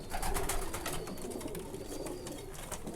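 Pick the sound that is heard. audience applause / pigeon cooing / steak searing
pigeon cooing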